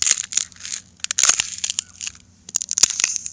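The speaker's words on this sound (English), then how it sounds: "there's just something really satisfying about ice and just the sound it makes when it cracks." Ice being broken and cracking up close, with bursts of sharp, crunchy snaps and crackles coming in irregular clusters separated by brief pauses, and no voices.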